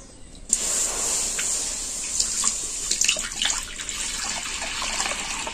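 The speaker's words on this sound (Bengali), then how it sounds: "এবার আমি এই গাদড়াটা একটা ছাঁকনির সাহায্যে ছেঁকে নেব।" Cooked cow colostrum pouring and dripping through a kitchen sieve, a steady close wash of liquid with small splashy spikes throughout, no talking.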